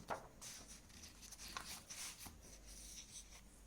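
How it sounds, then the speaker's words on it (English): An equation is written out for a differential geometry lecture, with faint, steady pen or chalk strokes scratching and rubbing in short bursts for several seconds. "Let me write down another equation."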